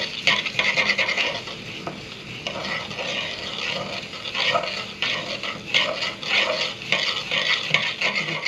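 Indomie noodles frying in a pan, stirred with a steady run of scraping strokes over a continuous close sizzle, with no talking.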